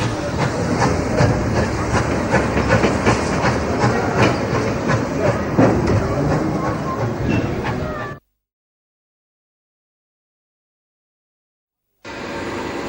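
Steam locomotive running on rails, the kind worked on main lines out of Sydney such as the 3801, heard as a loud steady rumble with rhythmic clicking for about eight seconds, then silence, then the running sound resumes.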